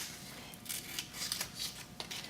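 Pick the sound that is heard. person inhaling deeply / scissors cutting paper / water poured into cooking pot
scissors cutting paper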